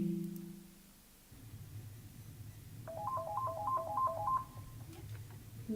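A telephone call rings out through the handset: a low steady tone, a pause, then a repeating electronic warble of rising and falling beeps before the line connects.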